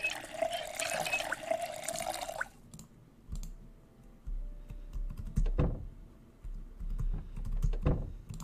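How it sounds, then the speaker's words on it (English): Water being collected from a toilet in the survival game Project Zomboid, a splashy liquid pour for a couple of seconds followed by faint clicks and quieter scattered taps. "Let me get some toilet water."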